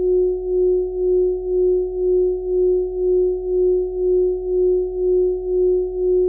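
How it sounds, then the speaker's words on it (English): Sonification of the pulsating Cepheid star Polaris: a steady pure tone swelling and fading in a slow, even pulse about twice a second, loud and alone. "So that's the sound of Polaris."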